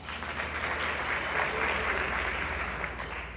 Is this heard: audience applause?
yes